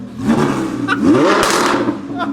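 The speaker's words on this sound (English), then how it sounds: "All right, so open the valves. There you go. Rev it." An Audi R8 V10 Plus with its exhaust valves open revs loudly and close, the engine note rising and swelling in a short burst as people talk over it.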